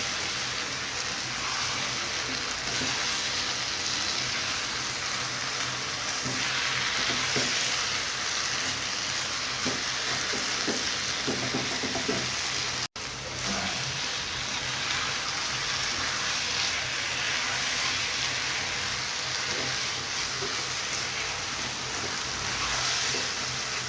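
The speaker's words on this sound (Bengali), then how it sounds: "আচারটাকে অনবরত নাড়তে থাকতে হবে," Chalta pickle sweetened with honey sizzles steadily in a pan while being stirred continuously, a dense, even frying hiss with soft scraping throughout and one brief cut near the middle.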